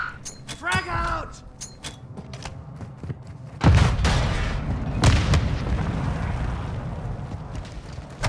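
A frag grenade goes off in Warzone 2 DMZ gameplay: a loud, close boom near the middle, followed by a second blast and a rumbling, crackling tail, with brief radio voices and gunfire-like clicks before it.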